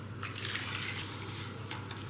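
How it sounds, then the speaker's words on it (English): Hot water, freshly boiled, poured into a mango mixture for kids' snacks in a home kitchen, a steady close splashing and trickling flow lasting throughout. "I'm gonna add in the hot water that was boiled"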